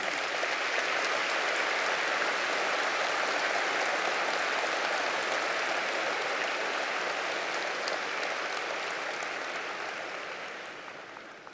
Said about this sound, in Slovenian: zaslužite si aplavz